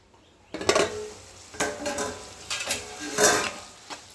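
Mushroom masala sautés in a pan for biryani, a spoon scraping and clinking through it in irregular close strokes over a faint sizzle.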